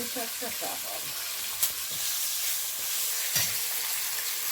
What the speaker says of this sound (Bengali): মাছ দিয়ে দেব এই তেলের মধ্যে